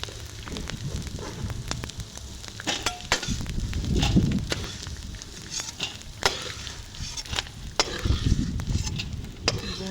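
Edible gum (gond) roasting in hot ghee in a pan for panjiri, a steady crackling sizzle with stirring scrapes and occasional bursts, close and fairly loud throughout, with no talking.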